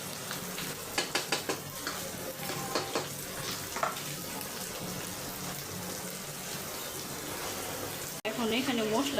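Spiny gourd (kakrol) frying in a pan and being stirred, with a steady sizzle under a run of scraping, clattering strokes early on and a voice speaking near the end.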